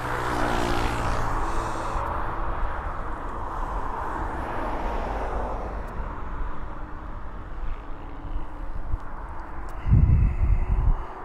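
A Ryanair airliner taxiing at East Midlands Airport, a steady broad jet engine roar that holds at moderate distance and swells briefly near the end.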